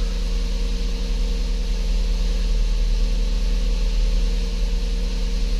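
A 2007 Lincoln MKZ 3.5L engine idles while warming up, sounding as a steady low hum with a mechanical drone, continuous and fairly loud throughout.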